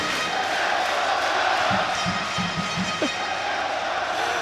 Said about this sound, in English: We're going to let the crowd take this one away